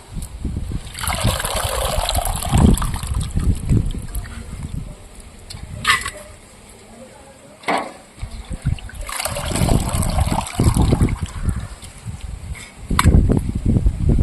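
Water runs and splashes in bursts as a large bowl is rinsed and scrubbed, with clinks and quieter pauses between the pours.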